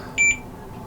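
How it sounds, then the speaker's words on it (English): A single short electronic beep from a multimeter in continuity mode, clear and steady for a moment, over faint background hiss. "multimeter in beeping mode"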